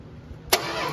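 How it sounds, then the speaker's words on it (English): A 1968 Dodge Charger garage-find engine turns over and catches with a sudden burst, then settles into a steady, fairly loud running roar within a second. "That is a running engine"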